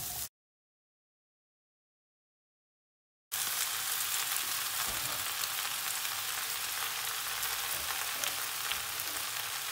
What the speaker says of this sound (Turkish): Hafiften biberlerin dövmesini bekleyeceğiz.